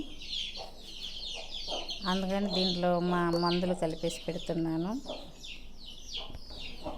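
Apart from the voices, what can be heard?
chicks and hens clucking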